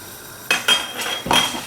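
A tortilla goes into a pan for cooking, giving a few clattering metallic knocks and scrapes of pan and utensil, close and brief, with no talk.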